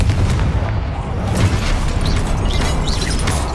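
Confringo blasting spell explosions in the video game Hogwarts Legacy, booming impacts and crackling bursts layered over a busy, loud battle ambience.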